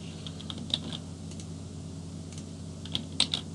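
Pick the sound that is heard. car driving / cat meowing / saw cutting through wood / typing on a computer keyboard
typing on a computer keyboard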